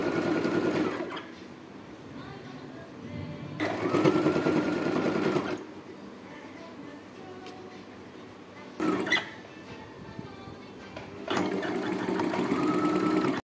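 A sewing machine stitching a kids' frock runs in several loud bursts of rapid mechanical whirring, separated by quieter pauses with faint handling sounds.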